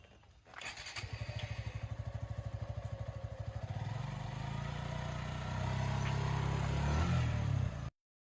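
A motorcycle engine close by, starting with a rapid chugging putter, then settling into a louder, steady running drone before cutting off abruptly.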